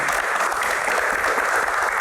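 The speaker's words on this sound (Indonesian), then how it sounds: "tepuk tangan" A studio audience at a televised Q&A talk show breaks into sustained, even applause, many hands clapping loudly and without pause throughout, with no voices on top.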